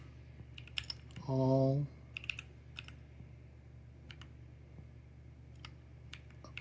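Sparse, faint clicks of keys being typed on a computer keyboard, scattered irregularly over several seconds in a quiet room, with a short spoken word and a brief tone early on.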